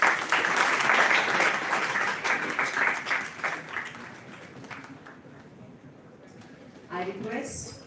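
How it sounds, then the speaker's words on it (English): An audience applauds at a university ceremony, a dense burst of clapping that is loud at first, then thins and fades over several seconds before a voice speaks at the end. "A big round of applause, please."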